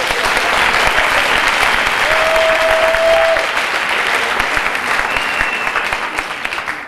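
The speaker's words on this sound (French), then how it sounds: "sous vos applaudissements aussi enthousiastes que énergiques, voici venir Caméléon" A concert crowd applauds enthusiastically as a slam performer takes the stage at an opening set in Chaumont, France, with loud, dense, sustained clapping throughout and faint whistles above it.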